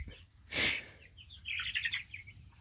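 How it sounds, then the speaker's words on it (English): Small birds chirp in quick, thin bursts around a hiss of wing flutter or movement, with a cluster of bright tweets toward the end, fairly faint and without talking. "These birds are pretty dang silly sometimes."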